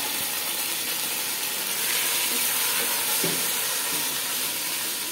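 Meat tipped into a hot pan for haleem sizzles steadily, a dense close frying hiss with a few soft stirring scrapes, no voices.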